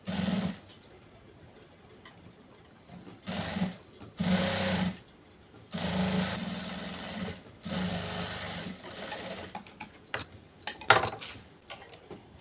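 Sewing machine stitching piping on a prince-cut back-open blouse, running in several loud bursts of rapid mechanical whirring separated by short pauses, close up with no talking.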